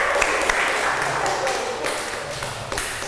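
Studio audience applause during a comedy talk show, a dense wash of clapping with sharp taps standing out, steady and fairly loud for a few seconds.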